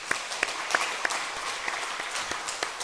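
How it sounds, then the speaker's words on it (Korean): A church congregation applauding during a sermon, a dense, even patter of many hands clapping with a few sharper close claps standing out, steady throughout. "할렐루야 박수 좀 한번 쳐줘요."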